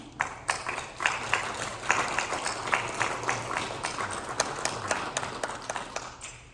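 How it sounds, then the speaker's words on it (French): A room at a municipal council meeting breaks into applause for a retiring employee, a dense, moderately loud stretch of many hands clapping at a steady rhythm. "ça lui vaut une bonne main d'applaudissement"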